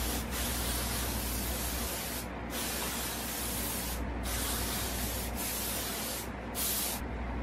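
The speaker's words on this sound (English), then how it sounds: "It's really important to spray your sections at the end." Hairspray hisses from a can in several long, close bursts, each separated by a brief pause.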